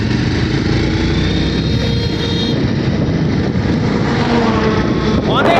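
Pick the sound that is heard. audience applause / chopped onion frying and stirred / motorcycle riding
motorcycle riding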